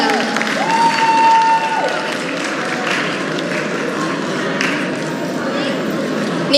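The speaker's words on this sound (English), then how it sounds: "One last round of applause, please, for them." A crowd at a community alliance launch event in a banquet hall in Edison, New Jersey, applauds the panelists, a steady wash of clapping that carries loudly through the whole stretch, with a brief whistle-like tone near the start.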